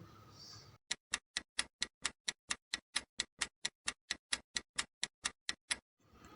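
A clock ticks in a steady, even rhythm, about twenty-two sharp, crisp ticks close to the microphone, with no other sound behind them after a brief muffled start.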